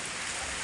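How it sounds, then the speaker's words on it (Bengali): Rain falling outdoors, a brief dense steady hiss of drops, fairly faint and without any voices. "সময় মতোই বৃষ্টিটা নামে যায় দেখো।"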